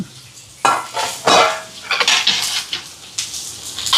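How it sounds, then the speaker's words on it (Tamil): Garlic, onion and curry leaves are tempered in a pan, with loud bursts of sizzling and clattering of a utensil against the metal, close by and uneven in rhythm. "இப்போ இதில் நான் தாளித்து போட்டு இதுக்கும் எடுத்துடுவேன், பருப்புக்கு."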